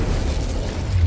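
The Incendio fire spell in Hogwarts Legacy releases a deep, rumbling whoosh of flame, a continuous low roaring burst that fills the short moment.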